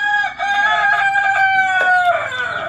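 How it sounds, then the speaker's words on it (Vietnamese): A rooster crows loudly and close by in one long, drawn-out call with a rising and falling tone, with no talk over it. "con gà gáy to thế"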